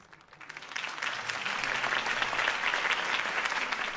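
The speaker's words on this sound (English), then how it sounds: "could have heard that applause" Crowd applause follows Harvey Dent's campaign speech in the video game Batman: The Telltale Series, swelling from quiet into steady, dense clapping that holds for several seconds, fairly close.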